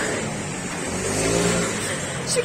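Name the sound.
scooter riding away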